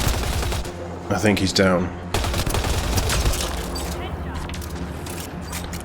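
Gunfire from a firefight in the video game Mass Effect Andromeda: bursts of shots and booms crowd the whole clip, with a loud volley partway through, and someone talks over the fighting.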